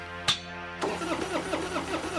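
A cartoon car engine cranks and sputters after a sharp click, catching into an uneven chug. It pulses roughly and close, never settling into a smooth run.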